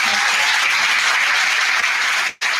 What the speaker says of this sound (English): I want everybody to give them and Paul a round of applause